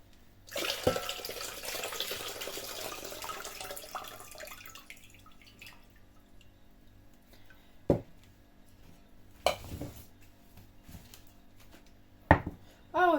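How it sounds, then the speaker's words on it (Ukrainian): Boiling water pours over cucumbers in a steady hissing stream for several seconds, then fades, followed by a few scattered clinks and knocks of kitchenware. "огірки знову заливаємо окропом"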